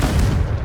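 Confringo fire spell blast in Hogwarts Legacy: a single loud, close, booming burst with a short rumbling tail.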